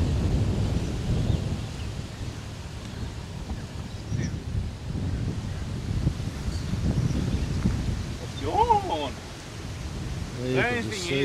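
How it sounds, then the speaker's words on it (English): Wind gusting across an open golf course at Caloundra Golf Club, a steady broad rush with low buffeting on the microphone, while a voice speaks faintly at times and birds chirp briefly near the end. "The wind's starting to kick up a bit."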